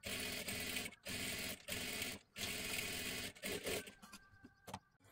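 Sewing machine running in bursts while stitching a blouse lining, a rapid close mechanical whirring chatter broken by short pauses, then a few lighter clicks and stops near the end.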